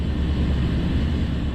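A small plane's engine drones steadily in flight on the approach to Pagasa island in the South China Sea, a loud continuous rumble that fills the whole moment.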